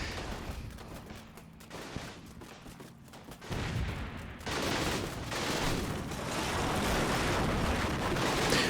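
Simulated MP40 or MG42 gunfire in the wargame Combat Mission during a Utah Beach battle around Carentan, a dense, continuous crackle of distant shots that swells and grows louder partway through, with no talking.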